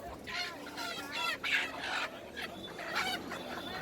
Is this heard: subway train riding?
no